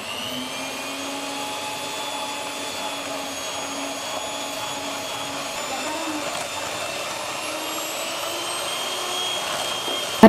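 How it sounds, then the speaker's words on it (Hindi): An electric hand mixer beating ghee with caster sugar, whirring at a steady high pitch with a slight wavering tone, close and continuous for the whole stretch. "अब इसको हम बीट करते हैं।"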